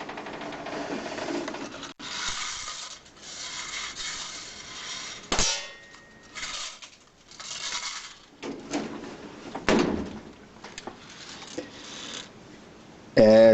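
Daisy Model 95 BB gun handled up close: a series of sharp metallic clangs and clicks from the lever being pulled down and locked back, then a crisp firing snap near the end, with quiet gaps between actions.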